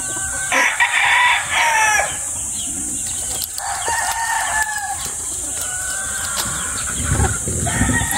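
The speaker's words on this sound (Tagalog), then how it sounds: "Ito mga breeder, battle stag din, Sota." Battle stag roosters and breeder chickens crow loudly and repeatedly at close range, with clucking and farmyard bustle between the crows.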